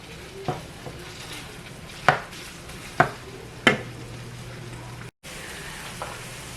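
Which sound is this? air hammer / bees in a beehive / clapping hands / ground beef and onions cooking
ground beef and onions cooking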